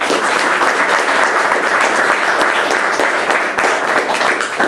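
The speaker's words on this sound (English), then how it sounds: "So please give Brian a round of applause." Sustained applause from a seated audience at a Python finance talk, dense steady clapping filling the room from start to finish at close range.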